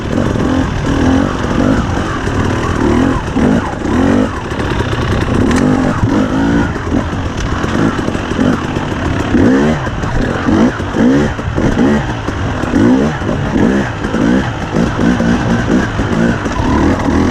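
A 2021 KTM 300 EXC TPI two-stroke dirt bike fitted with an RK TEK cylinder head, revving hard while riding off-road, the engine rising and falling in quick bursts of throttle, loud and close throughout.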